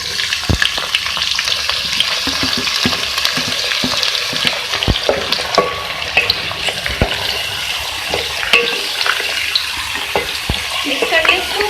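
Bottle gourd tipped into a pan of frying onions and stirred, giving a steady, close sizzle broken by repeated scraping and clacking strokes of the spoon throughout.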